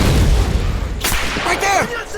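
Grenade blast and gunfire in the WWII shooter Medal of Honor: Pacific Assault, a heavy rumbling boom followed by sharp close gunshots cracking over the din, with a shouting voice under the noise.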